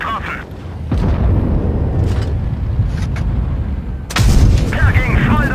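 A tank gun on a T-100 LT fires a high-explosive shell in WoT Blitz, giving heavy booming reports, one near the start and a louder one about four seconds in, under a steady engine rumble while someone speaks German.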